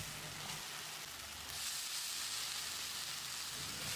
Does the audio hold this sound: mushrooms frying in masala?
yes